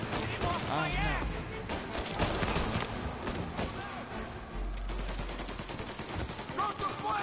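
Rapid gunfire in the video game Mafia Definitive Edition: dense bursts of shots crackle continuously over game music, with voices shouting across the firefight.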